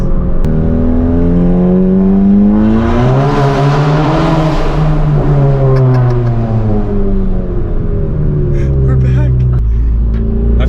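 Tuned VW MK7 with an EQT Stage 2 tune accelerates hard, the engine note climbing and dropping through gear changes, loud and close from inside the car, while a voice speaks over it.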